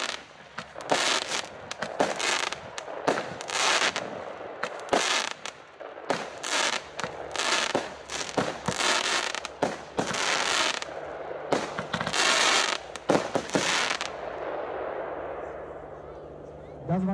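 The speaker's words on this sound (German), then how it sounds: "die Nightstar mit 15 Schuss, 180 Gramm NEM, Kaliber 25 mm" Nightstar 15-shot firework battery, 180 g net explosive mass, 25 mm calibre, firing a rapid run of loud bursts with crackling tails over about fourteen seconds, then a fading rumble.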